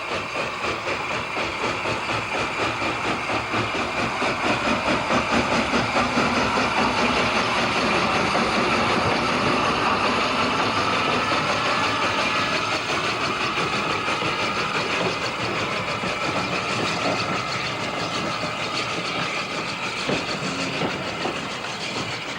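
Steam locomotive Yvonne pulling away from Yarwell station with a short passenger train at a heritage railway autumn gala, a steady loud rumble with continuous rhythmic rail clatter close by.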